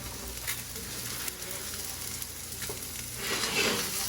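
Salmon and eggs fry in a pan with a steady, close sizzle and light crackle throughout, growing a little louder near the end, with no talking.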